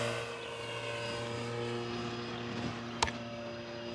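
An E-flite P-51D Mustang 1.5 m RC airplane flying at about half throttle, its engine droning steadily with a buzzing harmonic tone, fairly distant, with a short sharp click near the end.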